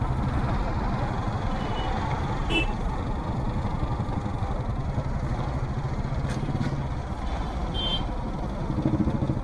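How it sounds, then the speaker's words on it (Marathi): Dense city road traffic on a ride aboard a Honda CB Shine motorcycle: a steady, loud wash of engine rumble and road noise from surrounding vehicles, continuous throughout with brief faint higher tones, no talk. "आजचा ट्रॅफिक जरा जास्तच वाटतंय मला."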